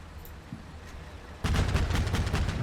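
A BMP's 30mm cannon fires in the Combat Mission: Cold War video game. After a quiet stretch, a loud, sustained burst of rapid, closely spaced shots starts abruptly and runs to the end.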